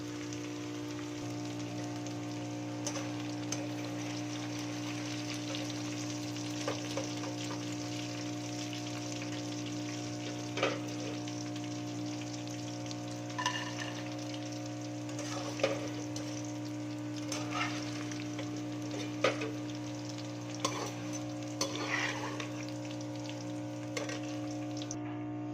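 Fried okra is scooped from a pan into a dish: a faint sizzle over a steady low hum, with occasional soft scrapes and clinks of the utensil, quiet and without talk.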